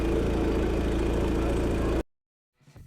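A 1996 Craftsman GT6000 lawn tractor engine idles steadily and loudly just after a carburetor rebuild, then cuts off abruptly, leaving silence and a faint shuffle.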